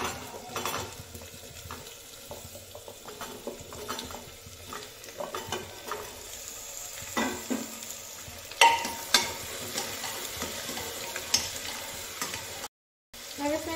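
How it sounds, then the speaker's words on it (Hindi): Chopped potato and jackfruit fry in a pan with a continuous close sizzle, occasional stirring clatter and a brief dropout near the end, with no talk. "अब इसमें डालिए ये कटा हुआ आलू कटहल।"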